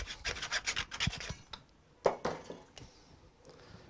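Plastic air tubing for an aquaponics airline is cut, giving a quick series of close, faint rasping scrapes, a pause, then a few softer scuffs.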